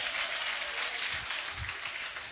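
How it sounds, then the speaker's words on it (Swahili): Clapping from a live church audience at a Peace Caravan gathering, a steady dense wash of many hands, moderately loud and continuous for a couple of seconds, with no speech over it. "Jipigie makofi kwa kuona dunia mzima."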